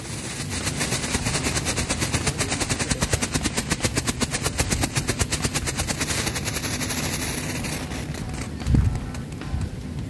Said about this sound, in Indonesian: selanjutnya ini kita nyalakan mercon Happy Flower yang warna hitam.